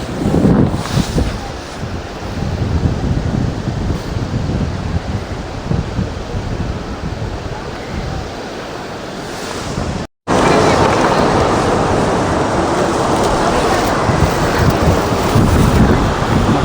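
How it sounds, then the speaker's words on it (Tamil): Athirappilly waterfall pours in a steady, loud broadband roar with heavy wind buffeting the microphone, the rush continuing unbroken apart from a brief cut near the middle. "அதிரம்பள்ளி ஃபால்ஸ் வந்தாச்சு"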